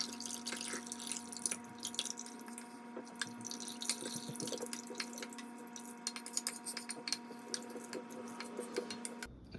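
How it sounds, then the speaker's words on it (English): Hot elderberries tumble into mead must in a continuous liquid pour, dripping and splashing steadily with close, quiet trickles, small splats and a low steady hum beneath. "I think I'm just gonna add the elderberries in now."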